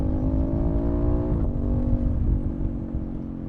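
Aprilia Tuono 660 motorcycle engine running steadily up close, with a brief throttle blip and dip in revs around a downshift, the harmonic engine note then settling back to a strong, continuous drone.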